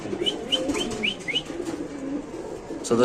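Pigeons coo at a pigeon seller's stall where white King pigeons are on sale, soft repeated calls close by over a murmuring background, with a voice breaking in at the very end.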